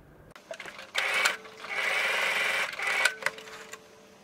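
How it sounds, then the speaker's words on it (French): Domestic sewing machine stitching along a zipper with a zipper foot, fast whirring bursts of needle strokes separated by short pauses, close and clear with no talking. "on s'arrêtera de coudre quand on arrivera à sa hauteur"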